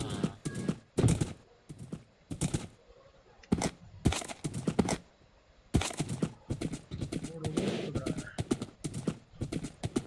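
Horse hooves in Minecraft clop in bursts of sharp knocks, close and fairly loud, broken by brief pauses, with no voices.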